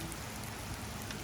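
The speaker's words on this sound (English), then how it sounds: "now it's pouring down rain" Heavy rain pouring down steadily on a hiking trail, a dense, continuous hiss that stays loud and even throughout with no voices.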